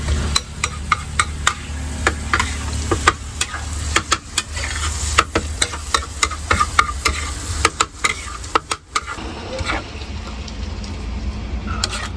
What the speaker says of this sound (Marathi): त्याचा तो छान तडका तयार झाल्यानंतर त्याच्यामध्ये त्याने अंडी ती फोडून टाकलेली आहे